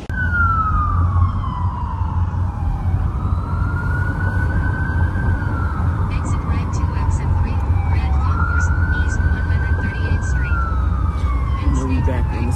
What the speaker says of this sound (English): you hear the sirens in the background